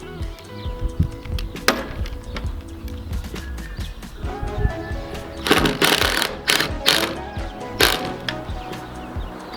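Pneumatic rattle gun tightening bolts on a large vehicle roof rack, bursts of sharp rapid hammering around the middle and end, loud and close, among scattered clanks and workshop handling noises.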